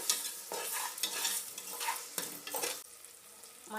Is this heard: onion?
yes